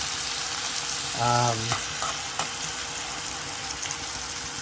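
Seasonings for Jamaican ackee and saltfish fry down in a pot with a steady, close sizzle that continues throughout, with a brief tonal sound partway through.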